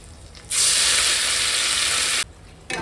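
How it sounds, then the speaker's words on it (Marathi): A ground spice paste of ginger, garlic and coriander hits hot oil with whole spices, bursting into a loud, bright sizzle for about two seconds before cutting off, then the sizzle briefly returns. "चांगलं आपण फ्राय करून घेऊया।"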